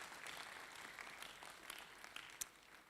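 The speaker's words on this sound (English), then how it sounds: "If you've enjoyed the cup of tea, please clap for them as we appreciate them." Audience applause at a conference, a steady wash of many hands clapping at moderate distance, fairly faint, continuing evenly without talk.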